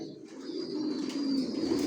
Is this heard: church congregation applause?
no